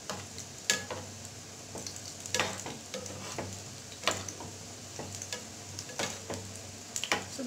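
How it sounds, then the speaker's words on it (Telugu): Gulab jamun frying in oil in a large pan: a steady close sizzle broken by sharp clicks and scrapes from stirring every second or so, with no talking. "గోల్డెన్ బ్రౌన్ వచ్చేవరకు ఫ్రై చేసుకుందాం"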